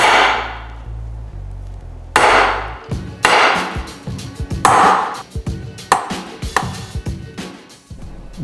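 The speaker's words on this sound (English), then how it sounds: "We're using a larger punch to enlarge the dimples." Repeated sharp hammer blows on a metal punch, enlarging dimples in a metal adapter plate for fitting an EJ engine to a Subaru Loyale, ringing close and loud in an irregular series of strikes.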